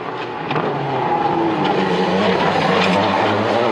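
A Peugeot World Rally Car at speed on dry asphalt during the 2003 Monte Carlo Rally, a sustained roaring engine with fluctuating revs and faint tyre noise, fairly close and continuous.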